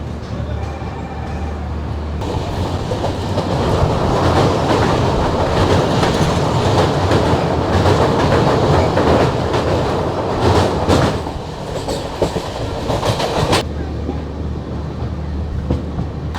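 The Kolkata to Guwahati Garib Rath Express rumbles steadily along the tracks, with a continuous loud roar and faint rhythmic clatter throughout, briefly swelling louder partway through.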